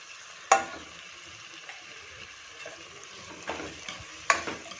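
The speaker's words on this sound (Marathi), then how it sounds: "आता आपण याच्यामध्ये बारीक चिरलेला शिमला मिर्च घालून घ्यायचा" Finely chopped capsicum frying in a pan with chickpea paste for pav bhaji, a soft steady sizzle broken by a few sharp scrapes and knocks of a spoon stirring, close and without talk.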